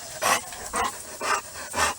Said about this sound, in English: She has a dog, and he loves to play.